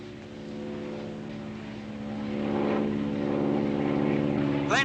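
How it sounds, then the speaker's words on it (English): A propeller airplane droning overhead at sea near a ship in a 1960s war drama, a steady low engine hum that slowly swells louder, with a brief voice cry at the very end. "Plane off the starboard quarter."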